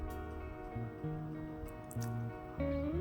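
Wet, squelching stirring of thick idli batter after a pinch of baking soda is added, with soft drips and sloshes repeating in an uneven rhythm, close up and moderately loud.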